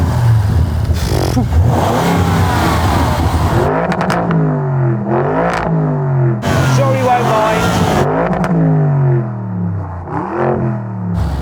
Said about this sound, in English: Go on, let's start the engine.